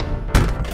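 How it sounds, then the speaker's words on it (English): A toy truck falls into a pit with a single short, heavy thud partway through an otherwise quiet moment. "Oh no! Truck fell into the pit."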